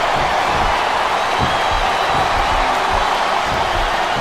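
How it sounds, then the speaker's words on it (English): A virtual arena crowd in the wrestling video game SmackDown Vs. Raw 2007 roars and chants, a dense, steady wash of crowd noise that fills the whole stretch. "listen to that chant, Taz."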